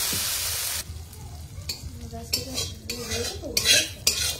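Curry leaves and tempering spices sizzle and crackle in hot oil for a yogurt curry, a loud frying hiss broken by sharp pops and spoon scrapes against the pan.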